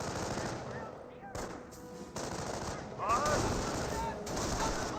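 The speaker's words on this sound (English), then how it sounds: "M180 gun firing away." Machine-gun fire from an M180 in Company of Heroes rattles in sustained bursts amid a dense game battle soundscape, loud and continuous with several sharp breaks, while a commentator talks over it.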